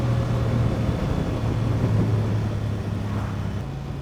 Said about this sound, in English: And that engine is lovely.